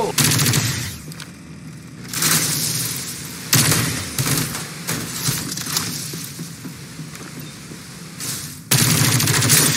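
Bursts of automatic gunfire and shots from the battle royale game Farlight 84, loud and dense in several volleys with brief lulls between them, with occasional game voice lines mixed in.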